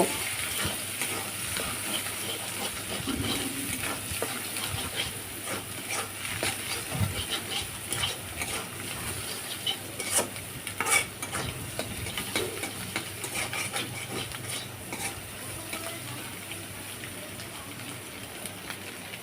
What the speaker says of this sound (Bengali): আমি ডিমটাকে এখন পেঁয়াজ মরিচের সঙ্গে ভেজে নেব